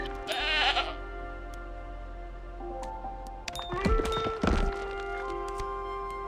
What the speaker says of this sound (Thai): แพะแพะเราต้องอยู่ที่หิน แพะภูเขาหน่อย นี่แพะอยู่ตรงนี้